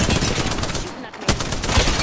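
Gunfire rings out in Apex Legends, loud and close, in rapid repeated bursts that break off for a short moment and then start again.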